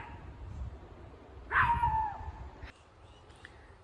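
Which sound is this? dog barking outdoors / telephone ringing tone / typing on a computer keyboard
dog barking outdoors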